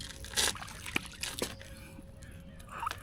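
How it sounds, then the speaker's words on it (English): A freshly caught stocker rainbow trout is slipped back into a Washington State lake or stream: a few brief splashes and sloshes rise over steady trickling water, with a sharper splash near the start and soft drips after. "Trying to release him directly into the water."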